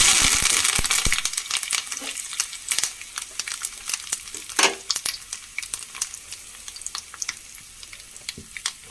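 Dried red chillies and curry leaves frying in hot oil for a Kerala-style sambar give a loud spitting crackle that starts intense and settles into sharp scattered pops, close up.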